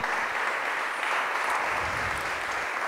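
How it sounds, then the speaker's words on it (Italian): An audience at a literary festival talk applauds to welcome an author, a brief, even wash of clapping heard close and steady throughout. "saluterei con un applauso Ginevra Bompiani"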